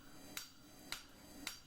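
A small 1 kg club hammer strikes hot metal on a scroll former with three sharp, ringing blows about half a second apart, crisp and close in a quiet workshop without speech.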